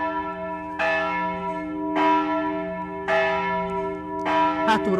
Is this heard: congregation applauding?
no